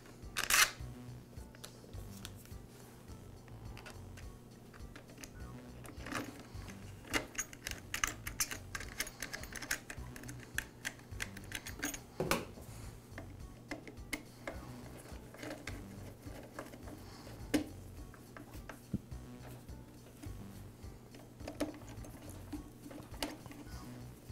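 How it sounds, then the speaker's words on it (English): Small plastic and metal parts clicking and tapping as the air filter base and carburetor are refitted on a Husqvarna backpack blower, scattered light close-up knocks and rattles over a quiet workshop background, no talk. "Now I'll reinstall the air filter base and the carburetor."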